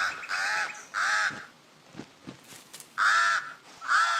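Pied crows give loud, harsh caws in four clear bursts, two close together early and two more near the end, with quieter rustling and faint sounds between them.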